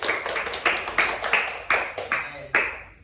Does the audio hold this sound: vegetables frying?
no